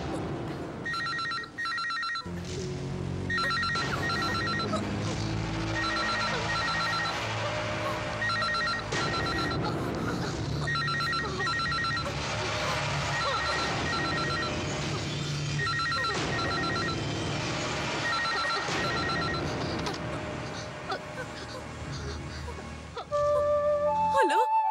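A telephone rings repeatedly in a Telugu film scene, with pulsing bell tones recurring over a backing of dramatic music for most of the passage, and some vocal sounds mixed in.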